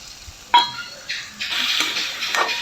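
Boiled chickpeas are stirred into a tempered chickpea curry in a pan, with a sharp clink of the spoon followed by several wet scraping strokes over a quiet background sizzle, close and without talking.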